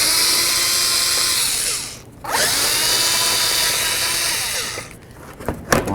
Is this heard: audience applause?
no